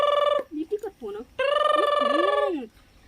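An electronic ring tone trills in two bursts, a short one then a longer sustained ring, with singing-like tones in between.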